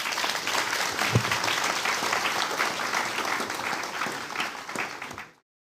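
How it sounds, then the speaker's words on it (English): Audience applause for conference panelists fills the room as a dense, steady wash of clapping from a sizable crowd, holding strong for about five seconds before stopping abruptly. "let's thank our panelists again today and give them a round of applause"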